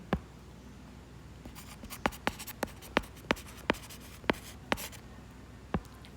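Chalk or marker taps and strokes against a classroom board come as a series of sharp, evenly spaced knocks close by, over a low room hum, with no talking.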